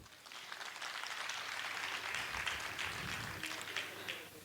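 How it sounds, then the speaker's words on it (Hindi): Audience at a company event applauding a product showcase, a broad wash of clapping that stays steady and fairly distant throughout. "इस प्रोडक्ट्स के लिए एक बहुत जोरदार तालियां चाहूंगी"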